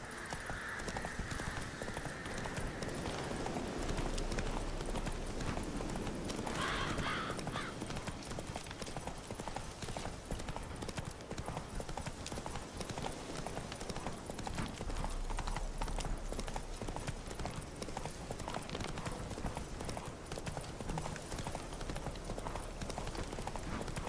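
Roach, a horse in the video game The Witcher 3, gallops with steady, rhythmic hoofbeats throughout, accompanied by occasional snorts and a brief whinny over a constant background wash.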